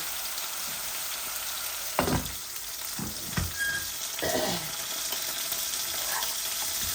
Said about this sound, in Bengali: এই যে মাছটা ভাজা ভাজা করছি, এগুলা বোনলেস তেলাপিয়া মাছ